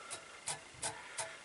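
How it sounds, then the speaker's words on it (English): An old toothbrush brushes out fibres on a fly-tying hook for an Irish shrimp fly, four short scratchy strokes in a steady rhythm, close and quiet with no talk. "and just brush out the fibres."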